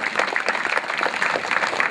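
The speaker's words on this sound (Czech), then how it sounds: "Takže ještě jednou velký potlesk pro tyhle ty lidičky" Lively audience applause in a village pub after a band performance. Close, loud, choppy clapping from a modest crowd, the individual claps standing out in an irregular rhythm.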